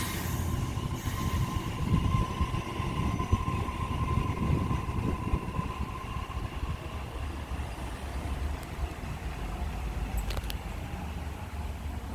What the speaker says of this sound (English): A14 departing platform number 2, Hornsby only service